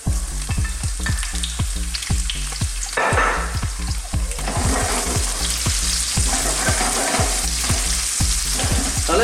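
Onions sizzle loudly in a hot pan on high heat, a steady frying hiss broken by repeated rhythmic scrapes and stirs of a utensil against the pan, with no voices.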